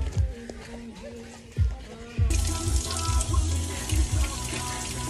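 Sea urchins washed under running tap water, a steady gush from the faucet that grows louder and fuller midway, punctuated by low thuds and clunks of handling in a sink.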